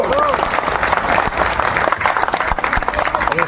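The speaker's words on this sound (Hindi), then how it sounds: "ताली जोर से बजाओ" Sustained applause from a large outdoor crowd at a BJP Parivartan Yatra rally in Govindgarh, dense clapping holding steady throughout with voices mixed in.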